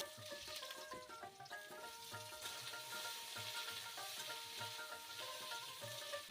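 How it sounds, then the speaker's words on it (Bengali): Potatoes frying in hot oil in a pan, with a steady close sizzle and repeated scraping as they are stirred throughout. "এবার আলুগুলো ভেজে নিচ্ছি তেলে।"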